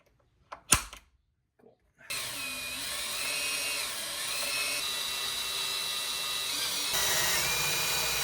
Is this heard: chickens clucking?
no